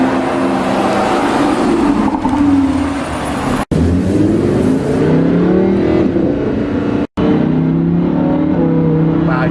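A Lamborghini Huracan LP 580-2 V10 engine revs loud and close, its smooth rising and falling roar climbing through gears, with two abrupt silent gaps.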